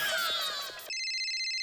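Electronic telephone ringtone trilling steadily and fairly loud, preceded by a brief stretch of busy, voiced sound before the ringing takes over alone.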